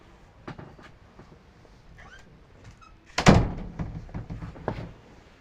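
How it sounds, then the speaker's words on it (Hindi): A door is pushed shut indoors with a single solid thud partway through. Quieter household shuffles and small knocks come before and after it. "एक मिनट में दरवाज़ा बंद कर दूँ।"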